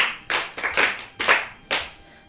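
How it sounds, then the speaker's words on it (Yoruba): An audience at a Yoruba children's programme claps for Feyisara in several short, close bursts of hand claps, loud and uneven in rhythm, with no talking over them. "ẹ pàtẹ́wọ́ fún Fèyí Sara o"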